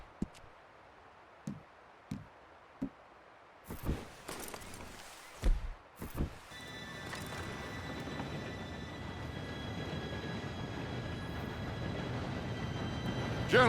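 A train in Red Dead Redemption 2 approaches with a steadily swelling rumble and rattle. A few footsteps and thumps come first, then the low roar builds under a faint high whistle-like tone.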